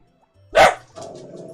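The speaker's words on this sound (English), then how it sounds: "Sorry, my dog is whining. I think he hears somebody outside my room." A pet dog named Pepper gives one loud, sharp bark close up, then settles into a lower whine that trails on behind it.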